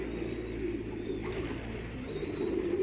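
Soft, low pigeon coos repeat steadily over a constant background hum, with faint chirps higher up and no one speaking.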